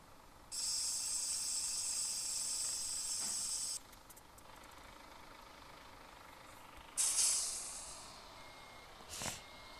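A steady high-pitched electronic tone sounds for a few seconds, a video game Volvo truck's reversing beep, followed by a couple of short hissing bursts of air.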